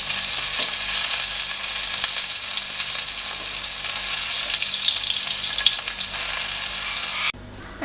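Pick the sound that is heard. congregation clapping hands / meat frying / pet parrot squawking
meat frying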